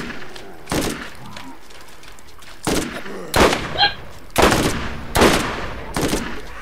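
Gunfire in the Borderlands video game, a series of loud, sharp shots spaced about a second apart, each with a brief rumbling tail, over a low steady background.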